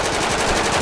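Rapid automatic gunfire in a GTA FiveM roleplay game, a dense continuous burst of shots lasting under a second with no talk over it.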